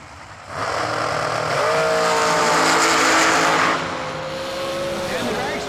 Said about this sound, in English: the dragster, just like last time, sounding like either the blower belt came off it or he lost it